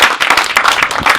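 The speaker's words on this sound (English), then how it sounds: "Can we give them a round of applause?" A short burst of lively clapping from a small group, close and loud, uneven and energetic.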